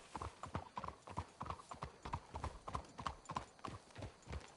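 Horse hooves in Red Dead Redemption 2, a steady quick clip-clop rhythm on the ground, fairly faint and continuous across the whole stretch, with a faint murmur of voices underneath.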